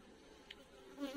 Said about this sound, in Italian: queste sono api che stanno nascendo proprio in questo momento